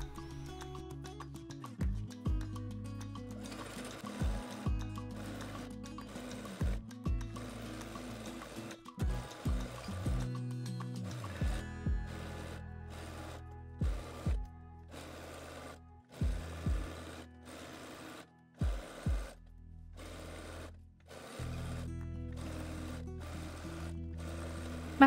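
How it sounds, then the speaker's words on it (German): A domestic sewing machine topstitches the edges of a quilted reversible vest, running in short whirring bursts with a steady needle rhythm and brief stops between seams, and no voices. "alle Kanten mit einem Abstand von so 3-4 mm zur Kante absteppen mit der Nähmaschine"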